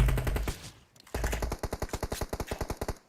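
Gunfire in PUBG Mobile, a short burst of shots followed after a brief gap by a rapid automatic string of evenly spaced sharp cracks, loud and close, with no talk over it.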